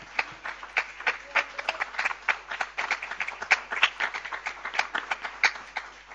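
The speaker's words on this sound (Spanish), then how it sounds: "¿Podemos dar un aplauso al Señor esta mañana?" A church congregation claps during a Sunday-morning service, producing a sustained, fairly close run of brisk, irregular handclaps for several seconds, with scattered voices mixed in.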